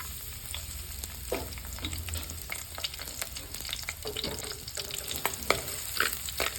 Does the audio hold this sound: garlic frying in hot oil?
yes